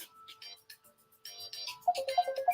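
A mobile phone ringing during a motivational talk, a repeating electronic ringtone melody that grows louder, with faint chirpy tones before it.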